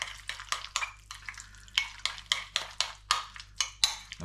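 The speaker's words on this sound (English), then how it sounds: "we're just going to add the mayonnaise" A spoon briskly mixes mayonnaise with capers, red onion and lemon zest in a bowl, giving a quick series of soft wet scrapes and clinks in an even rhythm, close and alone.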